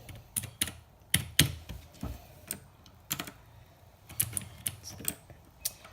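Keys clack on a LexonElec mechanical keyboard in an uneven run of sharp, close taps with brief pauses between bursts, quiet overall and free of speech.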